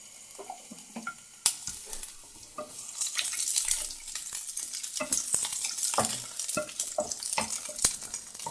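Capsicum sizzles in hot oil in a wok, with a spatula scraping and clattering against the metal in repeated irregular strokes, close and fairly soft, no talking.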